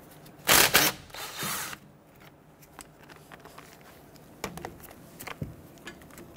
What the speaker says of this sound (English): 12mm socket, loosen and remove this bolt.